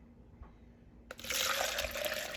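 Homemade stock is poured into a container. After a brief quiet pause, a sudden steady liquid gush starts and keeps splashing loudly until the end.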